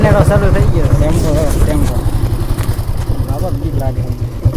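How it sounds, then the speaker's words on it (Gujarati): A tempo three-wheeler's engine runs with a rapid, steady thumping putter close by, while people talk over it. "ચાલુ થઈ ગયો ટેમ્પો"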